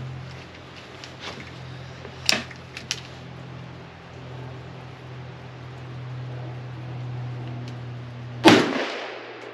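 An Alpha AK rifle with an optic fires Tula ammunition: two sharp reports about six seconds apart, the second louder, over a steady mechanical hum.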